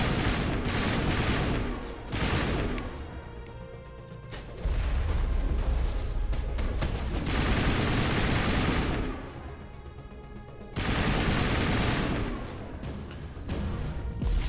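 Gunfire from the video game Mass Effect: long bursts of heavy rapid shots and explosions that come in waves, loud, with short quieter gaps between the barrages and no talking.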